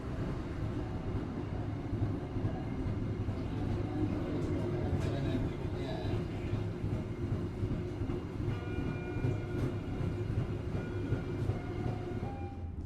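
Serayu economy passenger train rolling onward after departing Banjar station, a steady rumble of wheels and carriage noise heard from inside, with faint clicks and no voices over it.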